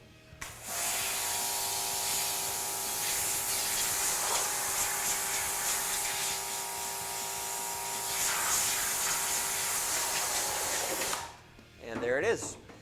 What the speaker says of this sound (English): You just go straight to washing out the screen.